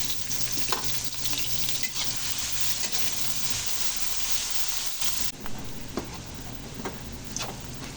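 Chopped onion sizzles steadily in hot oil in a home pan while cooking igado, a broad continuous frying hiss with a few small pops and stirring scrapes, close and fairly loud throughout.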